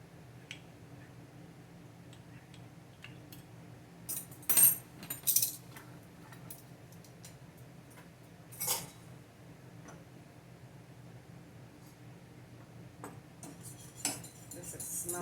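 A spoon stirs a gravy mixture of beef drippings and water in a pot, giving faint scraping with a few sharp clinks against the metal, quiet and intermittent.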